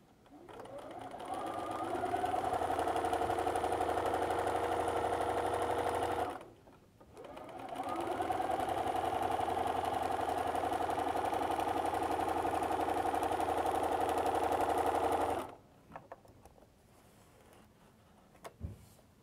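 A sewing machine with a walking foot stitching fabric, a steady mechanical whir that runs for about six seconds, stops briefly, then runs again for about nine seconds before falling quiet.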